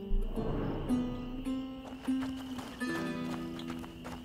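Horse in the A Plague Tale: Innocence video game, with a quick clip-clop of hooves and a short snort at the start, followed by a steady low tonal drone of the game's music beneath.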